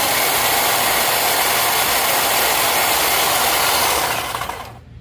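A Black & Decker Hedge Hog hedge trimmer runs on test after a stuck-blade repair, giving a loud, steady mechanical buzz and clatter that holds for about four seconds and then winds down and stops.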